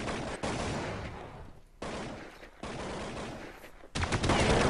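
Counter-Strike gunfire on de_dust2, several loud bursts of rapid shots separated by short pauses, close and harsh, with no voices.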